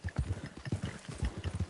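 Horse hooves clip-clop at a steady trot in Red Dead Redemption 2 Online, a close, rhythmic series of hollow knocks running throughout with no one talking.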